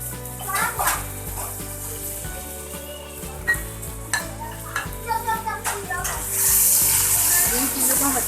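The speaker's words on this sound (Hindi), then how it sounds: "इन चीज़ों को हम अच्छे से भूनेंगे" Ginger, green chilies and tomatoes fry in masala for Chinioti chicken biryani, a steady sizzle broken by repeated stirring scrapes and clinks of a spoon against the pot, with a louder hiss swelling near the end.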